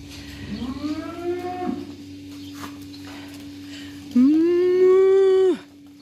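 A person imitates a cow mooing beside real cattle on the Camino Francés in Spain, giving two drawn-out, close, loud moos separated by a pause.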